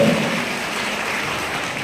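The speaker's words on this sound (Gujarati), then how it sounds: "જોરદાર તાળીઓ પાડીને શીતલબેન માટે" An audience claps at a school Independence Day prize ceremony, a dense wash of applause heard from within the crowd that holds steady and even throughout, with no voices over it.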